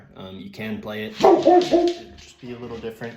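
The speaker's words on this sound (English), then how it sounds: "Sorry about my dog." A dog barks and yelps in loud bursts in the middle, under and between a man's speech during a guitar lesson indoors.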